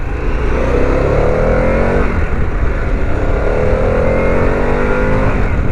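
2021 Harley-Davidson Pan America 1250 S motorcycle accelerating hard in S mode, loud close engine roar rising in pitch, breaking off at a gear shift near the middle and climbing again, heard from the rider's position with steady wind noise.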